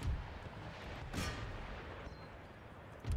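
Artillery cannons fire in an Empire: Total War battle. Two deep booms come about two seconds apart, one near the start and another at the end, with a muffled crack in between over a constant low battlefield rumble.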